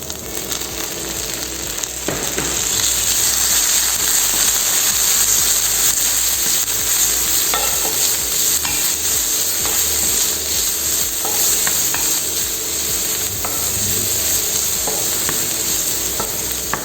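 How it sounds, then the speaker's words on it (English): Julienned vegetables with ginger, garlic and chilies for spicy Thai-style noodles are tossed into hot oil, starting a loud, constant sizzle with rapid rattling, scraping stirring strokes in the pan. "Now add juliennes of vegetables."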